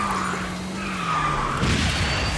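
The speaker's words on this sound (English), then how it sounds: "I love when the drift makes that weird sound where it like cuts the drift off." Kart drift skid in a racing video game, a steady hissing tire-squeal texture with a sliding engine tone that drops and cuts off abruptly near the end, heard alone.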